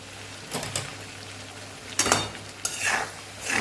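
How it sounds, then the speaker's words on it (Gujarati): A spoon scrapes and stirs red chilli and coriander-cumin powder into potatoes in a pan, a few short bursts of scraping over a quiet hum. "સરસ મસાલો આપણે મિક્સ કરી લઈશું।"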